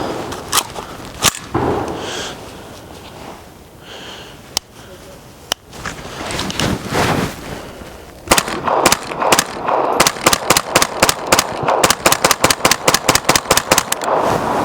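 Sterling MK4 9mm submachine gun fired semi-automatically, loud sharp shots: a few spaced reports first, then a fast, steady string of closely repeated shots toward the end.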